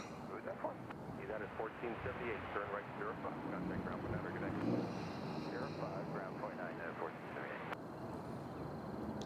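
An American Airlines airliner taxis at Nashville International Airport, a steady distant jet engine drone running throughout beneath someone talking over it.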